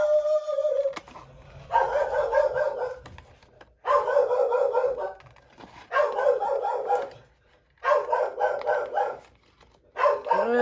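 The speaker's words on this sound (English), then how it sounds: "Sorry about the dog." A dog barks in five loud, sustained bursts spaced about two seconds apart, with short gaps of quiet between them, in a home where someone is working with cardstock.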